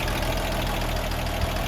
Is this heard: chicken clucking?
no